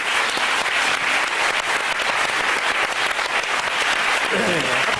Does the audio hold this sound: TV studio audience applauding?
yes